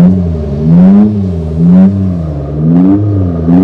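Simulated combustion-engine sound played by an Abarth 500e electric car: a steady, droning synthetic engine note whose pitch swells and falls in repeated waves like revving, loud and close, with no talking.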